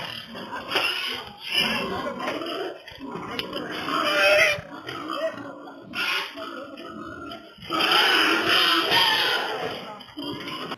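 Pigs grunting and squealing in loud, overlapping bursts, close by, with a brief lull midway before the noisy grunting resumes.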